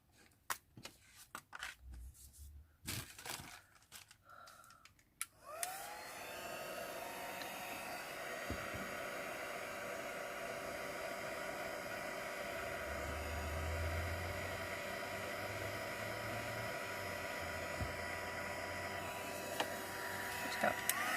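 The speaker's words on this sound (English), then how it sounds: "Let me just quickly heat emboss that." A heat gun blows over a handmade condolence card to heat emboss it, a steady close whooshing hiss switching on after a few seconds of light handling clicks and rustles, then running without a break.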